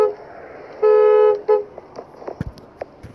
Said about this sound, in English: BMW M750i horn.